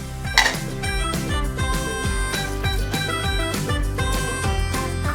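Bamboo shoots being rinsed in a metal pot or pressure cooker, with steady clanking, scraping and clinking of metal against metal in a busy repeated rhythm, close and fairly loud.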